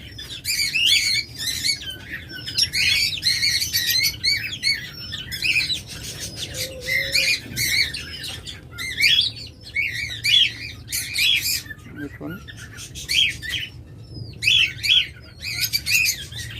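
Crowd of caged birds at a bird sale, budgerigars and diamond doves among them, keeping up a dense, loud chatter of chirps and squawks that barely pauses throughout.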